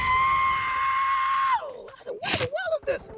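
A man vocally imitates an F-35 fighter jet with a loud, sustained screeching whistle that holds steady, then drops and breaks into warbling vocal sputters.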